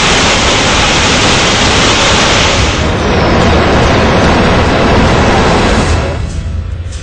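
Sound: Omkareshwar dam water being released

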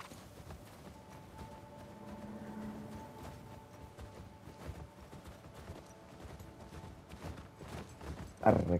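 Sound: horse galloping hooves in video game The Last of Us Part II

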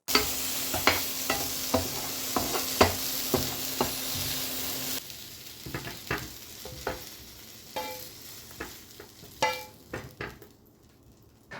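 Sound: frying fermented pork without oil

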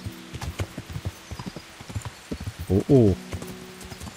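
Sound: horse hooves and whinny in video game Kingdom Come: Deliverance

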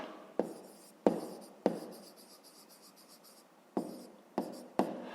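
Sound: writing numbers by hand in a math exercise

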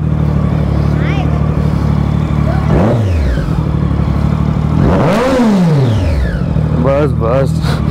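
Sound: motorcycle engine revving

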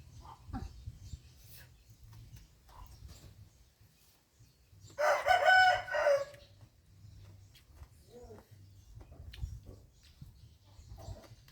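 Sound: rooster crowing

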